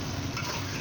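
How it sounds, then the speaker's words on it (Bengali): Marinated chicken is being sautéed in a pan for chicken tehari, giving a brief, steady frying hiss with low scraping from the stirring and no talk. "এবার দিয়ে ভালোভাবে সব কিছু নিয়ে কষিয়ে নিচ্ছি।"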